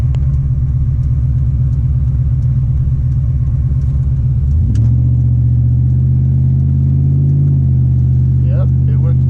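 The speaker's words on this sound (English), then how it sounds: "we got up to third gear, see if it downshifts back to first" A 6.0-swapped Chevrolet Silverado truck runs with a loud, steady engine rumble that drops into a lower, smoother drone partway through as the transmission shifts down, with a brief voice near the end.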